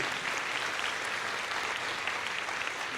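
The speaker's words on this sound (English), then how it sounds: "we're going to say thank you to them by clapping for them" Students and families at a middle school moving-up ceremony clap for the school faculty, a dense, even round of applause filling the whole stretch without speech.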